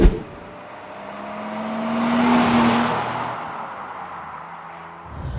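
A 1998 BMW E36 328i Sport drives on the road, its engine note rising and swelling to a peak mid-clip before easing back, heard from inside with steady road noise beneath and no talk.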